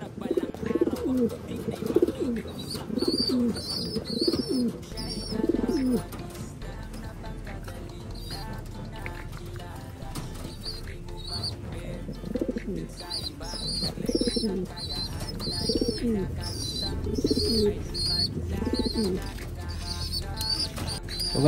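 Thai pigeons feeding their young in a loft coo in low, repeated throaty bursts, while faint high chirps from squabs and someone speaking run alongside.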